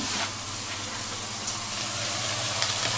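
Meat sears in a pan with a steady close hiss and crackle of frying, continuous throughout with small pops, no one speaking.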